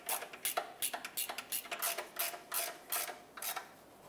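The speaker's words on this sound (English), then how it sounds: "So I'm just going to get a longer ratchet, put some leverage on it, and snug it up." Ratchet snugging intake manifold mounting bolts on a 2014-2021 Mazda 6, a run of quick metallic clicking bursts in short rhythmic strokes, close and fairly quiet, with no talking.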